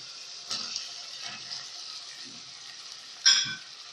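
Onions and meat frying in a pan for okra tagine give a soft, quiet sizzle with light stirring scrapes and brief clinks, one sharper crackling burst near the end.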